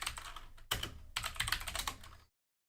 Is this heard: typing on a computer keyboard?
yes